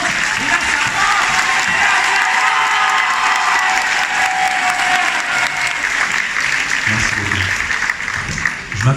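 Concert audience at a music festival applauding and cheering. Dense, close, continuous clapping holds steady and swells slightly toward the end.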